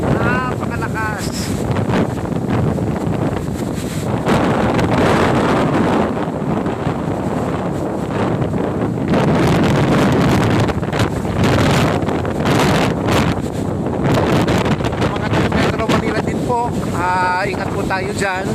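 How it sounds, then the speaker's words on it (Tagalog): Typhoon wind roars continuously against the microphone, a loud rushing buffet as coconut palm fronds thrash in the gusts, with a voice speaking through it. "Sobrang lakas ng hangin, promise."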